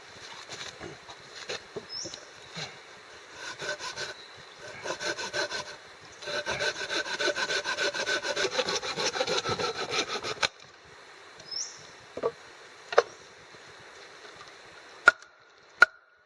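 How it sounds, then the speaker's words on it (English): Hand saw cutting through a wooden log to make a batten outdoors in the bush, short rasping strokes that build into a long steady sawing run, then stop, followed by a few isolated knocks and clicks. "So this piece here I'll just cut and turn it into my batten."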